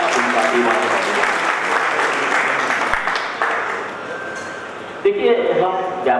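An audience at a community picnic gathering applauds the organising team with dense, loud, continuous clapping that thins near the end, with voices mixed in over it.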